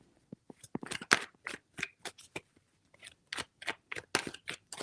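Tarot cards are shuffled by hand in quick, crisp riffling bursts, a close run of short papery slaps and flutters with brief pauses between them.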